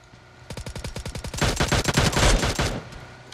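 Rapid bursts of automatic gunfire in PUBG Mobile, a rattling volley that grows denser and louder midway, close and continuous with no talk over it.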